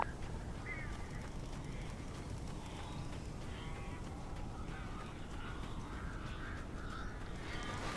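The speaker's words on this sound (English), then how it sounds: "Barry had talked about birds over the phone." Crows caw in Alan Wake Remastered, several harsh calls scattered across a dim, noisy background, fairly faint and distant.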